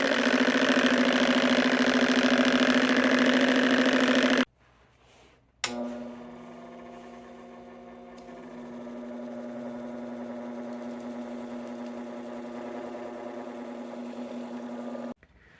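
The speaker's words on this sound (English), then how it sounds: "I'm going to go back and do, say, the 1200 wheel on it and then polish again" Lapidary polishing wheel spinning against an agate stone, back on a 1200-grit wheel, a steady close motor hum that stops briefly, restarts with a click and runs on evenly before cutting off.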